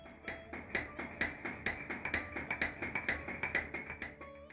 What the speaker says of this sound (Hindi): फरमे को हथौड़ी से कूटा जाता है।